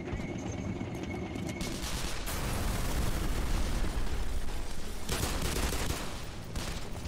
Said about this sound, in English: Oh, and then the tank shoots through that?